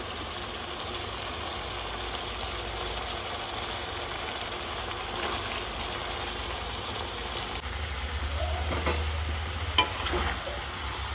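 Chopped bottle gourd stirred into hot spices in a pan for a prawn and gourd curry, a low steady sizzle with soft scraping stirs and a small clack near the end.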